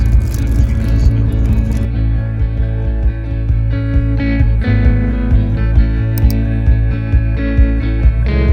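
A car drives on the road, heard from inside the cabin as a loud, steady low engine and road rumble with occasional bumps and rattles.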